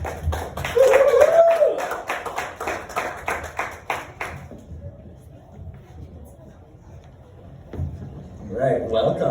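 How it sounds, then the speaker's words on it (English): Audience applause at a live sports preview show at Black Hart of St Paul: a brisk run of claps for a few seconds, then fading out as people talk over it. "Give a round of applause."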